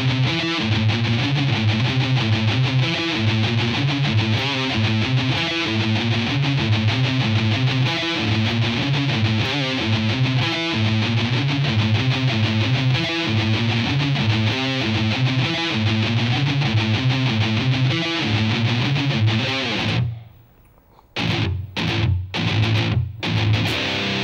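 Distorted electric guitar plays the slow outro riff of a song, heavy chugging chords repeating in a steady pattern before a short pause and a few final hits.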